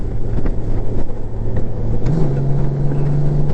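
A Honda Gold Wing DCT motorcycle cruising in seventh gear near 80 gives a loud, close engine drone with wind rumble, and its note rises as the throttle opens partway through.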